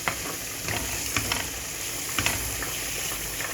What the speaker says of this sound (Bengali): এখন আবার ভালোভাবে এটা দিয়ে ভাজবো